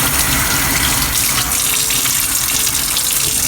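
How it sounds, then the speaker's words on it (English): Tap water runs hard over a Chinese cast iron wok as it is rinsed in a sink, a loud, steady splashing gush that continues throughout. "so just rinse this off"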